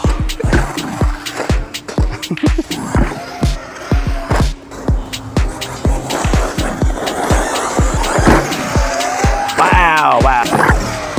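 Hosim Mojarco 6s M33 RC truck tearing off-road, its electric motor revving in rapid repeated bursts with scrabbling wheels and a rising whine near the end, loud and close throughout.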